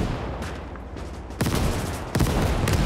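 Mortar and artillery fire in Gates of Hell multiplayer, several loud close blasts in quick succession, with two heavy booming impacts standing out near the middle and end over a dense battle din.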